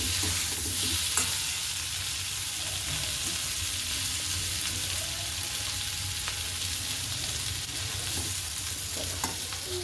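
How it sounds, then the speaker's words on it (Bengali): Steady sizzling of potatoes frying slowly in a pan, continuous and moderate, with occasional faint scrapes of stirring. "এটা হোক আস্তে আস্তে ভাজা"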